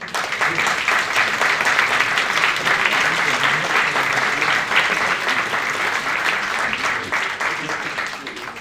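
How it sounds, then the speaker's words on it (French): Applause fills the room at a municipal council meeting in Cattenom as newly installed deputies are greeted, a continuous crowd clapping of even strength over several seconds before easing slightly at the end. "On peut les applaudir."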